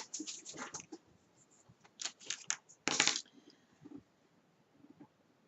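Scissors cut the corner of a paper pouch close to the mic with quick, crisp snips in short bursts, ending in one longer rasping cut followed by faint rustles.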